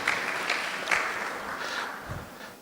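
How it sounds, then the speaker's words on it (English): Applause from an audience at a high-level Africa civil society AML/CFT conference, a short burst of clapping that swells and fades over a few seconds, moderately loud with no talk. "Let's give them a round of applause."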